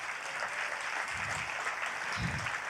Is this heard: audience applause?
yes